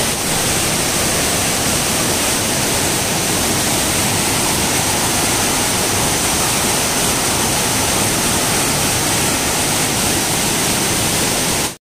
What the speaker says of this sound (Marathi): खाली कसं धबधब्या जातो दरीमध्ये